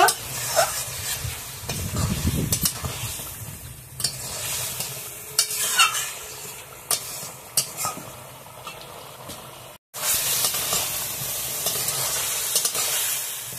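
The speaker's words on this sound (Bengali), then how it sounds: "মশলার সঙ্গে মাংসটা এখন খুব ভালোভাবে কষিয়ে নেব" Chicken is fried and stirred with spices for a vegetable chicken curry, with loud repeated stirring scrapes over a constant close sizzle and a brief silence partway through.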